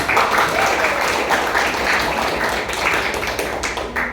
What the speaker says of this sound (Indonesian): Coba beri tepuk tangan dulu.